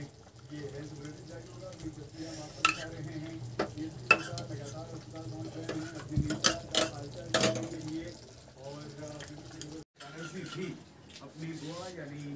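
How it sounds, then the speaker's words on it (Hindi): Milk cream cooking down into ghee in a pan gives a soft sizzle with intermittent stirring scrapes, while someone talks over the cooking throughout. "जैसे कि ये दूध का क्रीम था, क्रीम से घी निकल गया है।"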